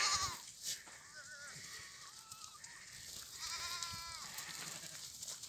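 A herd of long-horned goats, two to three years old, bleats repeatedly in wavering calls, some near and some farther off, over the steady rustle of an outdoor farm setting.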